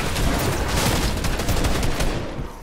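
Rapid, dense gunfire from a Fortnite match, a pump shotgun among it, loud and continuous with overlapping bursts and no clear pauses, close up throughout.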